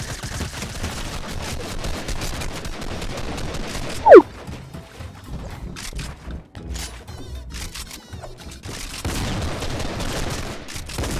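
Gunfire in the battle royale video game Fortnite, rapid bursts of shots over busy game noise with a sharp louder crack near the middle, then scattered quieter shots before heavy firing resumes.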